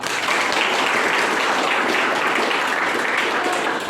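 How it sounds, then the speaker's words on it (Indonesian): Classroom applause after a lesson segment, a steady dense patter of many hands clapping at close range, even and sustained throughout with no pauses. "tepuk tangan dulu untuk semuanya"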